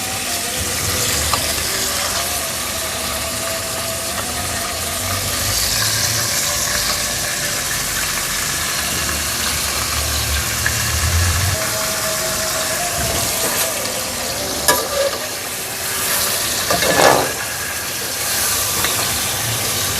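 Chicken pieces sizzling and frying in a pan over medium heat for chicken aloo salan, a steady close hiss with bubbling spatter that swells briefly near the end.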